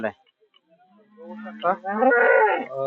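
A cow at the Sangola cattle market gives one long, loud moo in the second half, preceded by faint murmuring and a brief sound at the start.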